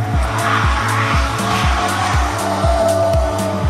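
Cars, one of them a Peugeot 205, drift side by side across a field, with loud, close tire squeal and engines revving and dropping in a rapid, repeating rhythm.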